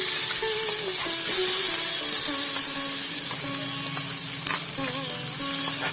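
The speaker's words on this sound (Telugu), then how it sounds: "వామాకు పచ్చడి పోపులో వేస్తున్నానండి." Ground ajwain leaf chutney hitting a hot tempering in a pan, with a loud, steady sizzle and crackle that fills the whole stretch, close and without talk.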